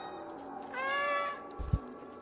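A cat meows in the video game Stray, one drawn-out rising meow followed by a couple of soft low thumps, fairly close and clear over a quiet background.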